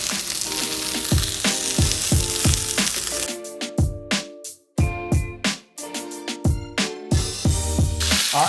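An Angus steak sizzles loudly on a hot grill, with bright crackling fizz and short popping bursts that rise and fade in uneven waves, close by.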